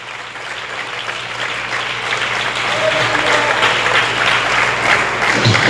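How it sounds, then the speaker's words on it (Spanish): Worshippers clap loudly in a church service, a thick, continuous round of applause that swells halfway through, with a low hum and scattered voices beneath it. "Dale fuerte ese aplauso a él en esta tarde."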